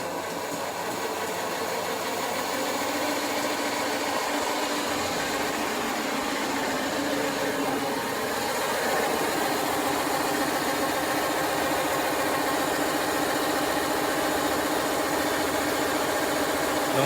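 An ANATROLLER duct cleaning robot spins on compressed air at about 30 PSI inside a ventilation duct, giving a steady close whirring hiss with a slight rise partway through as the pressure increases.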